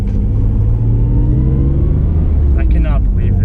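A Nissan GT-R engine rumbles steadily while driving, a loud continuous low drone with slight revving rises, and a voice briefly cuts in near the end.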